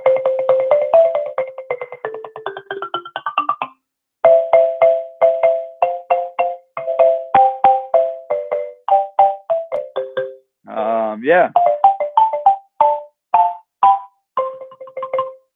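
A bright, mallet-like melodic tone pattern repeats in quick runs of notes, loud and close, with a brief pause and a short spoken word partway.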